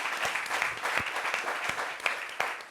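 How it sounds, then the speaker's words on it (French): Audience applause at a discussion show, moderate clapping from a small crowd with a few sharper claps standing out, fairly close and steady. "Alors, applaudissements encore s'il vous plaît."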